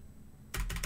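Typing on a computer keyboard, a short close burst of several quick clicking keystrokes after a brief quiet moment.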